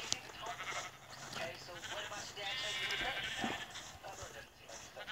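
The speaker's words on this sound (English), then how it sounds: "Wow, this is a lot of sheep." A flock of Minecraft sheep bleats continuously in overlapping calls, some faint talking mixed beneath the chorus.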